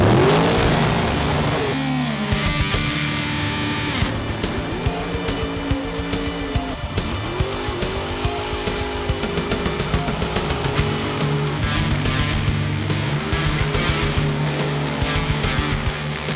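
Race cars at the 38th Annual Citrus Nationals at Palm Beach International Raceway, engines roaring and revving loudly throughout with shifting pitch sweeps as cars accelerate, a continuous dense motor din with no talk.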